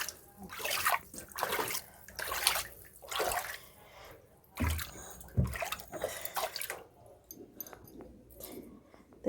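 Floodwater is splashed and pushed out of a house by hand and foot, bursts of sloshing and spattering water coming in irregular waves with quieter gaps between them.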